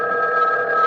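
Telephone ringing as a radio drama sound effect: a steady, continuous electronic ring that fills the whole moment, close and fairly loud, with no talk over it.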